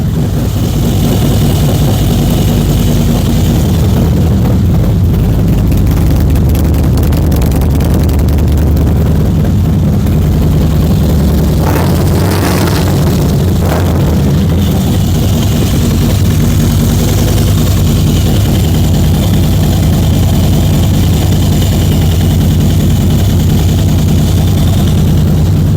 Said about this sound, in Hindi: मोटरसाइकिल स्टार्ट हो चुका है।